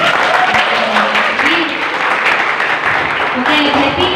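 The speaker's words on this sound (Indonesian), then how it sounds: "jawabnya tepuk tangan dong ya" An audience at a school student council (OSIS) candidate debate claps together, a dense, steady ripple of applause that runs nearly the whole time with a voice faintly audible over it.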